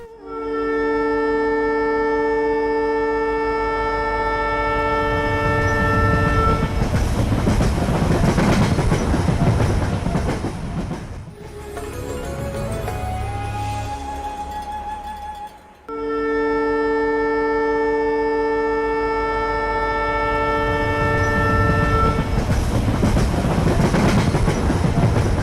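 Train running on railway tracks, a loud, steady rumble with strong sustained tonal horn-like bands, a brief quieter passage in the middle where a rising tone appears, then the loud rumble resumes to the end.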